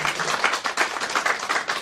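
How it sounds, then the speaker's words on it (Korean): Audience clapping at a Korean church council public hearing, a steady, fairly loud rattle of many hands filling the hall without a break. "박수 한번 쳐주세요."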